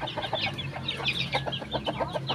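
A flock of sixteen chickens clucks busily after being let out of their coop, with overlapping close clucks and calls sounding steadily across the whole stretch.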